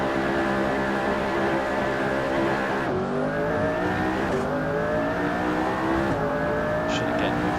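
A McLaren P1 engine in the racing game Assetto Corsa revs loudly on a lap, rising in pitch through the gears with sharp drops at each upshift, continuous and up close without talk.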